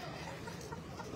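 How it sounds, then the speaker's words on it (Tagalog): Chickens cluck on a small farm, a soft, brief and busy flock murmur that ends in a sudden loud burst. "yan po yung aking mga manok na napakaganda"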